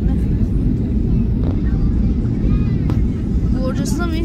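An airliner takes off from Batumi airport, heard from inside the cabin as a loud, steady roar of engine and rushing air that fills the whole stretch, with faint voices underneath.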